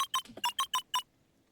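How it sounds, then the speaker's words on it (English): Six short electronic keypad beeps ring out in a quick, fairly even sequence as letters are entered on a phone booth keypad in the video game Beacon Pines, followed by near silence. "Luca cracked his knuckles and entered the letters into the keypad"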